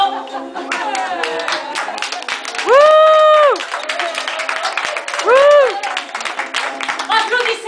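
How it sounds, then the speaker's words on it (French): An audience on a quirky guided tour claps steadily, with loud sustained whistle-like tones or cheering voices rising over the clapping twice, close and lively. "Applaudissez-les!"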